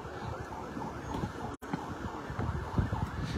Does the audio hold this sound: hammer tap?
no